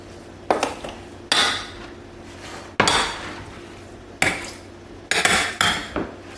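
A spoon repeatedly knocking and scraping through tomato and onion chutney with salt in a pan, producing several loud, close clanks and scrapes spaced about a second apart.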